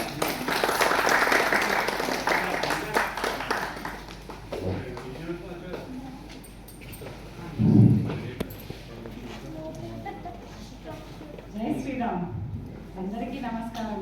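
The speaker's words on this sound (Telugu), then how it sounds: "క్లాప్స్" Audience clapping at a community get-together stage play, a burst of applause that fades within a few seconds, followed by a person speaking over a microphone.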